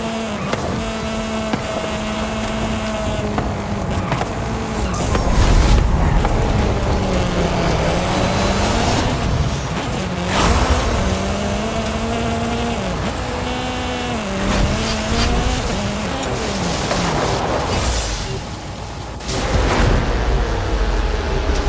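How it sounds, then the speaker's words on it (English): Lamborghini Centenario in a racing video game, its engine note rising and falling through gear changes with sweeping pitch glides, loud and continuous for the whole stretch, with occasional thumps and collision-like bursts over a busy game soundscape. "get into a Lamborghini Centenario just before the final showdown"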